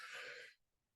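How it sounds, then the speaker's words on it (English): A single short throat clearing by a man in a quiet room, a brief raspy burst that cuts off into near silence. "I have to clear my throat."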